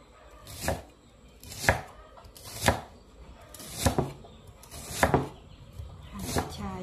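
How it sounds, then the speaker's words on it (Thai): A knife chops fingerroot (krachai) on a cutting board for a Lao-style fish curry sauce, landing six evenly spaced, sharp thuds at close range with quiet gaps between them. "เราจะหั่นกระชายก่อนนะคะ"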